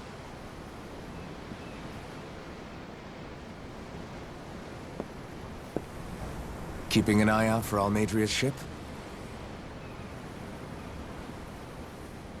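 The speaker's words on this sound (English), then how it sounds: "The ocean? Yeah. The waves. They help me think." Steady wave surf on an open ocean in the video game Tales of Arise, a continuous soft wash running throughout, with a voice speaking briefly over it midway.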